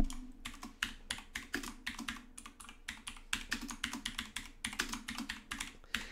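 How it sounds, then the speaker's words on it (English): A clicky computer keyboard, used for typing, gives off rapid, irregular clacking keystrokes close to the mic, continuous for several seconds with no voices. "Get ready for the clicky typing, ladies and gentlemen."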